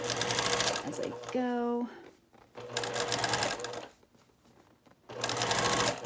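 A sewing machine stitches an improv quilt in three short, close bursts of rapid mechanical whirring separated by pauses, and a person speaks briefly between the first two bursts.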